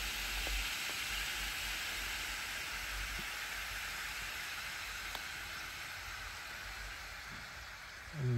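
Steam hisses steadily from an inflating self-heating food pack, a broad continuous close rush that holds level for several seconds before a brief louder burst at the end.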